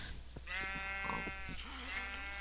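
Sheep bleating in the video game Minecraft, a clear wavering bleat rising after a brief pause, close and loud with a second shorter call near the end.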